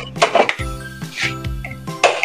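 A metal cooking pot clanks down onto a stove ahead of making paksiw with large sapsap fish, giving a few sharp ringing metallic knocks and clatters, loud and close, with no voices.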